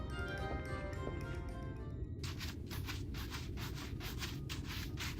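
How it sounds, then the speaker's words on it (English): Wood file rasping across a splintered wooden post in the Final Fantasy XIV video game, a run of rhythmic scraping strokes, about eight rough rubs in quick succession following a brief tonal chime. "Yes, a wood file's perfect. Let me even this out."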